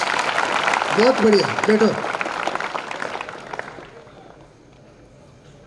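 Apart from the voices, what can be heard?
audience applause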